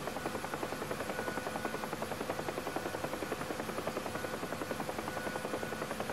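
A UH-1 Huey helicopter in the DCS flight simulator flies at cruise with a steady, rapid rotor thump over a constant engine whine. The sound is even and moderately loud and continues throughout.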